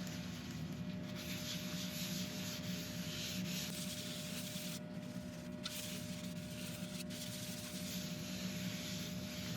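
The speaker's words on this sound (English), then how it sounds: "So back on again with the homemade wax." Steady close rubbing and sanding-like friction as homemade wax is buffed into a turned beech bowl, a continuous dense hiss with a constant low motor hum beneath, no talking.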